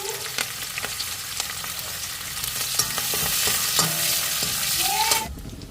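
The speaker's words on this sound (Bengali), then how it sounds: "কালো জিরে দিয়ে দেবো অল্প, কালো জিরে, কাঁচা লঙ্কা আর" Chopped onion, nigella seeds and green chili fry in a pan of oil with a dense, steady sizzle, close and fairly loud, marked by scattered spoon clinks and stirring scrapes, then cut off abruptly near the end.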